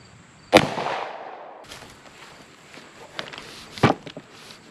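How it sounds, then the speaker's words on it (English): A single sharp, loud 10mm gunshot from a Glock 20 Gen 4 pistol fired at a paper stack about 10 yards away, followed by a brief echoing tail, a few small knocks and a second, lighter sharp crack near the end. "This is the Glock 20 Gen 4 10 millimeter."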